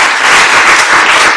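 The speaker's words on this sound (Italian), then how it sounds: "Un applauso." An audience at a dance forum interview bursts into loud, dense applause, a brief continuous wash of many hands clapping close by.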